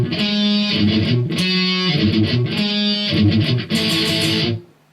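Distorted electric guitar power chords from the intro of a song chug in a driving rhythmic pattern, loud and close, then cut off sharply at the finish.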